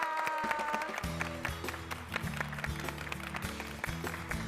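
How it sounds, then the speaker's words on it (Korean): Church congregation applauding as a member steps up to share a testimony, steady clapping throughout with a rhythmic low thumping underneath, moderately loud. "박수 부탁드리겠습니다."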